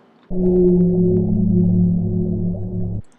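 A whale vocalization: one deep, droning tonal call that holds steady and loud for about three seconds, then stops abruptly, with nothing else around it.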